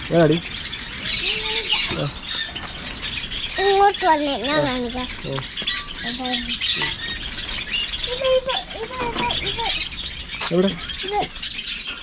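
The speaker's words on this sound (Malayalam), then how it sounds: "എവിടെയോ ഒരു കിളി ഉണ്ടെന്ന് പറയുന്നുണ്ട്" A bird calls near a backyard pond with a series of squawks and chirps scattered through the clip, fairly close and clear, while people talk intermittently around it.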